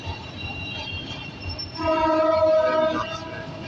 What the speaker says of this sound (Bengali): তেজগাঁও রেলওয়ে ক্রসিং সেন্টার দিয়ে ট্রেন ক্রস করছে।